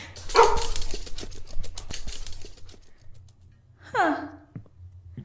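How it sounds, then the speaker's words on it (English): Giant three-headed dog guarding the gate to the Underworld, giving a couple of close, loud bark-like yelps and a breathy sigh, with a low rumble underneath. "A giant three-headed dog trained specifically to protect the gate to the Underworld."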